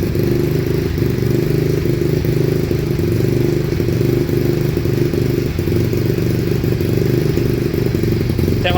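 A Yamaha Mio motorcycle engine, freshly reassembled after its camshaft was dialed, runs at a steady, close, loud idle with an even mechanical clatter.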